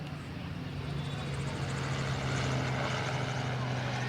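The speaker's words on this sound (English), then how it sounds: "The helicopters going over the top here." A helicopter passes overhead on a sunny day at a soccer field, a faint steady rotor and engine drone rising slightly, mixed with distant ambient noise.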